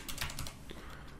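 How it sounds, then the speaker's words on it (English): Quick, close keystrokes on a computer keyboard, a short run of about half a dozen clicks with no talking. "here in search you're gonna type"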